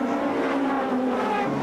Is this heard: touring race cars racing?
yes